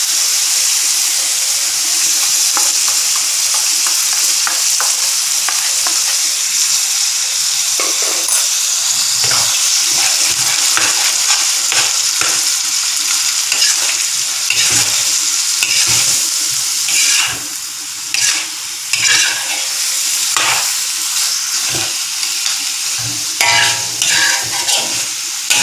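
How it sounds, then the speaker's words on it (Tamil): Mutton sizzles and hisses loudly in a hot pan with roasted ground spices for mutton varuval, with a steady frying crackle broken by repeated scraping stirs close up. "இப்போ நான் இறச்சி போடுறேன். வறுத்து அரைச்சது அதை போட்டு"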